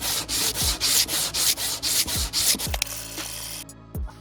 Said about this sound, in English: I still need to sand it a little more.